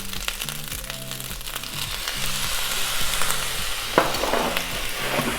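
Shrimp fried rice sizzling in a pan as soy sauce goes in, with steady frying hiss and repeated scraping, stirring strokes of a utensil against the pan.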